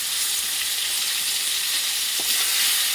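Potatoes with bay leaves and tomato frying in hot oil, a steady dense sizzle that holds loud and even throughout with no talking.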